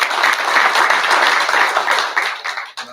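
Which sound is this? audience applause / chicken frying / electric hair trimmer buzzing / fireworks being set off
audience applause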